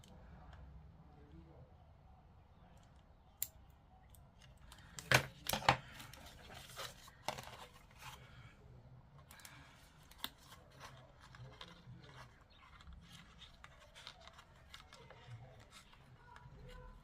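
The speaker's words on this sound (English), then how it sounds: "Snip that off." Scissors snipping off thread, a couple of sharp close snips standing out against a quiet room with faint rustling and scattered small clicks.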